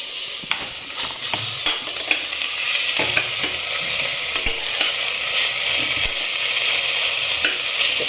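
Tomatoes being stirred in a cooking pot for a chicken vegetable stew, a bright continuous sizzle broken by frequent quick clicks and scrapes of a spoon against the pot, no talking.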